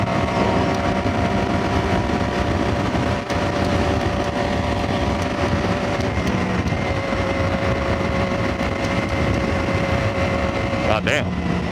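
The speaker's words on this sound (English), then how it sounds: "that's windy as hell right now" Strong wind buffets the microphone of a motorcycle rider outdoors in LA, a loud, constant low rumble that fills the whole stretch under a talking voice.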